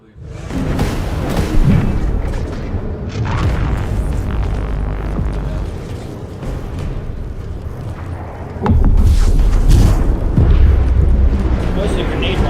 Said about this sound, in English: Mostly a grenade launcher.